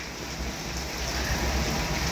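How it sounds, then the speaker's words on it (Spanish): Heavy rain pours down in a cemetery in Tamboril, Santiago, a dense, steady hiss of drops pattering on surfaces close by, with no voices. "Y no para de llover, no para de llover."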